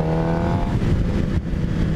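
A 2018 Suzuki GSXR750 sport motorcycle engine pulls hard in fourth gear, a loud, close, raspy inline-four drone with a steady rising tone and a brief dip near the end, with no voice over it.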